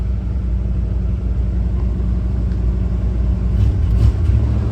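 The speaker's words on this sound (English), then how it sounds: "See, when I'm matting the throttle, it wants to backfire." Engine of a 1988 Jeep Grand Wagoneer, revived after sitting, runs with a loud deep rumble as the throttle is pressed, swelling slightly toward the end; close and steady, no talk.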